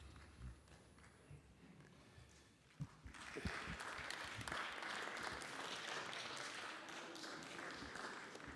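Applause rises in the French Senate chamber during a debate on public services and regional planning, faint at first and then swelling into a sustained, distant clapping that fills the hall.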